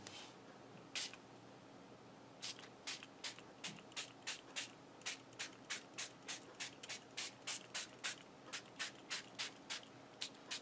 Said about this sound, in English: Now I'm going to take my little spray bottle.